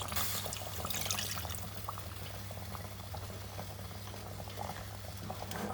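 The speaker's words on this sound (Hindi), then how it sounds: "अब इसके अंदर मैं थोड़ा सा पानी डाल दूंगी" Water pours into a hot pot of chicken korma and sizzles, settling into a steady bubbling simmer that continues throughout.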